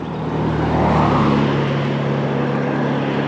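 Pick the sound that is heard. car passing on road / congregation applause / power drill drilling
car passing on road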